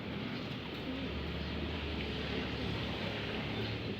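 Racing pigeons back from a training flight coo softly in the loft, faint low calls repeating over a steady ambient hum, with no one speaking.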